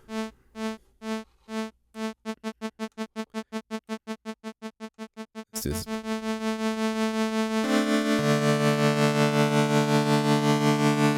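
Synthesizer notes with a triangle-wave LFO vibrato: first a clear, rhythmic pulsing of stacked harmonics that speeds up, then a sudden shift to a brighter, sustained buzzing tone with a steady wobble, loud and alone with no voice.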